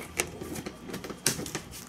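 Magic: The Gathering cards shuffled back into a deck during a Modern-format game, giving close, brief clicky riffling bursts with soft rustle between them.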